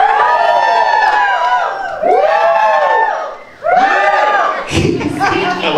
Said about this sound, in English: When I lift my arms, y'all are gonna cheer again.